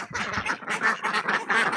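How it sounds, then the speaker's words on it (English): A mixed flock of farm ducks quacking just before feeding time, close and lively, with rapid overlapping calls in quick bursts filling the whole moment. "I'm in here with my mixed group of ducks"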